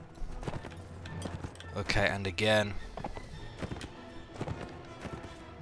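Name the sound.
horse galloping in Mount & Blade: Warband video game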